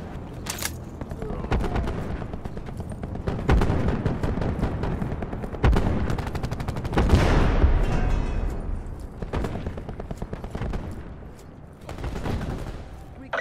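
Peacekeeper gun in Black Ops 4 firing rapid repeated shots in long bursts, loud and close, with booms and battlefield noise and occasional game voice lines in between.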